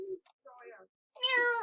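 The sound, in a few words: voice imitating a cat meow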